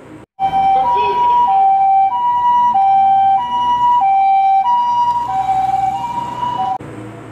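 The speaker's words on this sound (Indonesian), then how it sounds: "Wow, ini mobil ambulans." A toy ambulance gives a steady two-tone hi-lo electronic siren, alternating evenly for several seconds, close and moderately loud against a faint background hiss.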